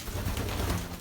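Racing pigeons in a small loft coo and rustle close by, a steady low cooing hum filling the whole second without talk.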